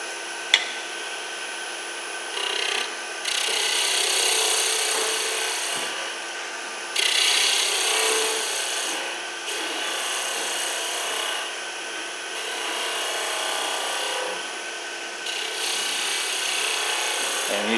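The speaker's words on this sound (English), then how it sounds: "When you're getting these kind of shavings, this is when you're cutting." A wood spindle spins on a lathe while a gouge cuts shavings, producing a loud continuous scraping hiss in long passes separated by brief pauses.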